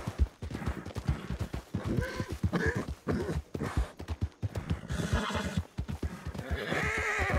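A frightened horse in Red Dead Redemption 2 whinnies and snorts over a steady clatter of hooves, with short bursts of distant gunfire. The sounds come close and loud, layered with repeated hoof strikes.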